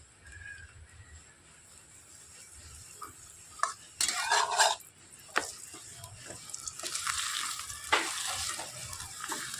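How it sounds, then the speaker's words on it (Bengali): A paratha fries in oil on a flat griddle: a soft sizzle runs under irregular scrapes and clatters of a utensil turning and pressing the bread, with a cluster of sharper knocks midway. "এবার একটু তেল দিয়ে ভালো করে ভেজে নেব।"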